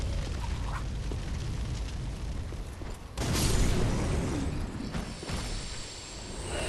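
Fireworks bursting in the video game Dark Souls 3, a roaring whooshing blast that swells abruptly midway over a dense rumbling game soundscape, loud and close, with no talk.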